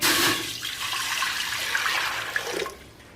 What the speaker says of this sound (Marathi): हा कोवरती कुकर ठेवला आहे मी त्याच्यात पाणी घालते